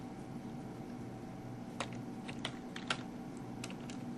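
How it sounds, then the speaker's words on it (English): A few light, scattered keystrokes on a computer keyboard, close and fairly quiet over a steady room hum, with no talking. "I'm going to type in the same thing"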